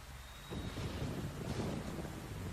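A rainstorm in the game Tropico 3, a soft, steady rushing wash of rain and wind that swells after a brief quieter start and stays fairly faint and even throughout.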